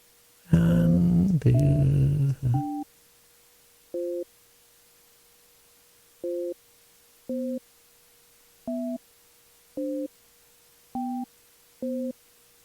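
A computer Skype call fails, and the failure is signalled by a short burst of noise followed by a steady series of evenly spaced electronic beeps. The beeps sound like a busy signal and play alone in otherwise quiet surroundings.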